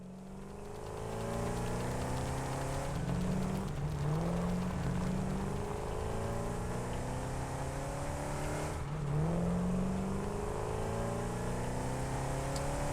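A vehicle drives along in the game Satisfactory, its engine droning and rising in pitch as it accelerates, with gear-like drops around the middle and near the end, steady and unaccompanied by talk.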